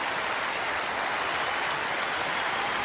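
Applause for a performer at an anniversary concert, a dense, even wash of clapping that holds steady and loud throughout, with no voices on top.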